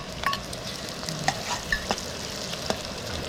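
Onions and green chillies fry in hot oil at an outdoor riverside campsite, a soft steady sizzle broken by several light scrapes and taps of a stirring utensil against the pan.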